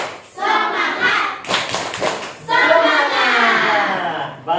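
Schoolchildren in a classroom clap through the tepuk semangat routine, a brief flurry of sharp, close claps set between loud group chanting.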